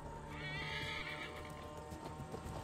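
A horse in the Assassin's Creed Valhalla video game gives one drawn-out whinny over faint hoof clip-clops, fairly quiet and steady under the game's ambient background.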